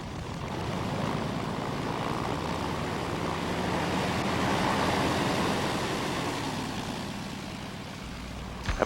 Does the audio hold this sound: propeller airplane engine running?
yes